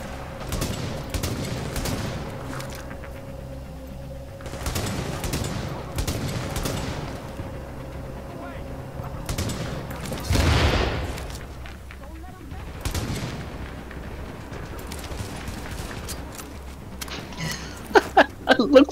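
Gunfire in The Division, with bursts of rapid shots and scattered single reports in repeated clusters across a long stretch, set against a steady game background and mixed with voices talking.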